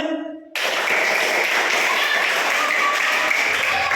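After a brief voice, a burst of loud hand clapping starts and continues steadily to the end.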